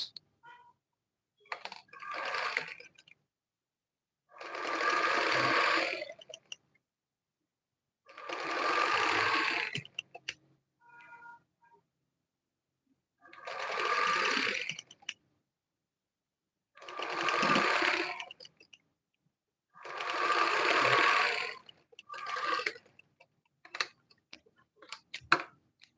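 A sewing machine stitching a quarter-inch hem on a sleeve runs in six steady bursts of a few seconds each, separated by silent pauses and occasional small clicks. It is close and clear, with no talk.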